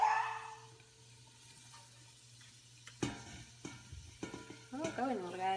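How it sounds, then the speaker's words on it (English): Leeks sauté in garlic-infused olive oil with a quiet, low sizzle. Soft stirring scrapes and a few light knocks of a utensil against the pan come through, and a voice speaks briefly near the end. "So I'll saute these leeks for just a few minutes,"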